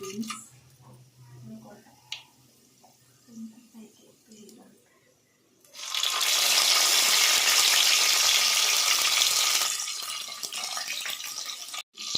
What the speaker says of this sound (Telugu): ఈ ఆనియన్ పచ్చిమిర్చి బాగా ఫ్రై చేసుకోవాలి